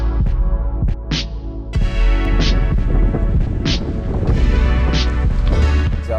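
Strong mountain wind at around 40 kilometers per hour buffets the microphone in a loud, continuous low roar, with recurring gusts and flapping bursts and no speech.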